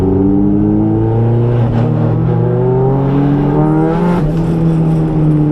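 A turbocharged Nissan S13 drift car drones at high revs from inside the cabin during a tandem practice run, its engine pitch climbing and dipping steadily with a brief shift blip, loud and continuous.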